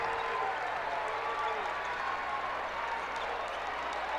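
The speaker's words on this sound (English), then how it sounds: "The Auburn fans coming to their feet, trying to cheer on their teams" Basketball fans in a packed gym applaud and cheer steadily during a boys state basketball game between Grand Island Central Catholic and Auburn, a dense, continuous crowd roar with clapping throughout.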